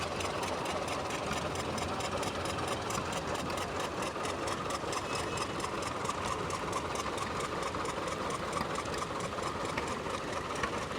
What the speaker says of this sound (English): all John Deere tractors, all beautifully restored and clearly in fine working order